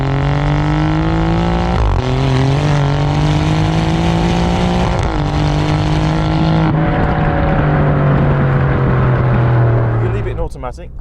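An Alfa Romeo Giulia Quadrifoglio engine held above 4,000 RPM in an eight-speed automatic, a loud, steady, close engine roar whose pitch climbs and drops back at a couple of shifts before easing off at the end.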